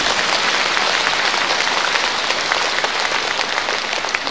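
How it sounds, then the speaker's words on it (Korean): A large crowd at a church festival lecture claps steadily and loudly, a dense, even wash of applause with no pause. "박수 한번 치시는 거예요"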